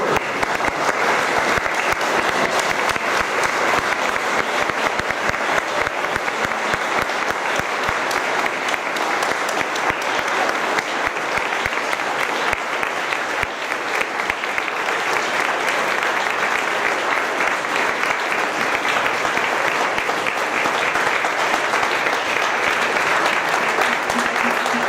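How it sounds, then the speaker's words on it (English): A standing ovation at a Citroën owners' rendezvous, where a large crowd claps loudly and continuously for about twenty-five seconds, a dense even roar of hands with faint voices underneath. "Can we please give them another standing ovation?"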